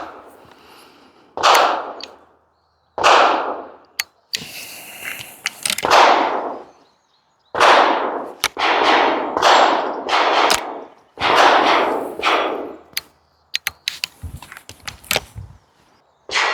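A 12-gauge shotgun fires double-aught buckshot through a Chiappa M6 survival gun adapter, with several loud, sharp blasts at irregular intervals, each trailing off into a short ringing decay.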